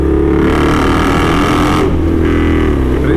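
An Indian Scout Street Hooligan motorcycle by Krazy Horse roars loudly and continuously close by, its engine revving hard with a rough, angry throb and a brief dip before surging again.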